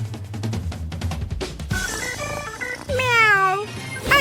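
Cartoon cat meowing in a cooking-challenge video game, a few bright rising and falling tonal cries near the end over busy game music and sound effects.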